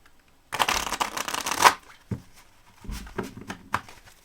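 A deck of tarot cards shuffled by hand up close: a long dense riffle of rapid flicking cards, then a few shorter bursts and soft taps as the deck is squared again.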